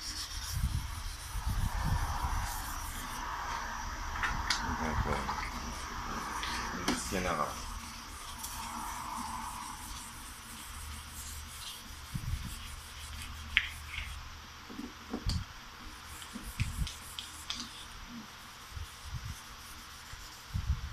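A car headlight lens is hand-polished with a cloth, producing soft rubbing and scrubbing strokes in irregular bursts, close by; someone talks at times over the polishing.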